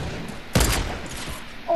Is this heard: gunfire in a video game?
yes